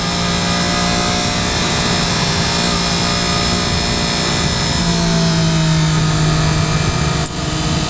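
A 2013 Triumph Daytona 675R motorcycle engine easing off the throttle while riding, a loud, steady drone with a falling tone under wind rush, then a brief dip near the end.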